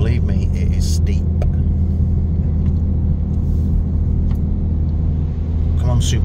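A truck engine labors up a very steep hill, a loud continuous low rumble filling the clip under a person speaking, with occasional brighter bursts of noise.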